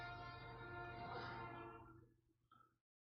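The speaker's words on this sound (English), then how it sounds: "There comes the train." A train rumbles past at a distance, a sustained low rolling drone that swells and then fades out, with a brief higher tone near the end before silence.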